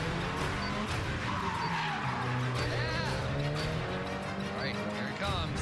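A stunt car driving backwards, its engine revving loudly with sweeping tire squeals rising and falling over several seconds, continuous and close, with people talking and calling out over the noise.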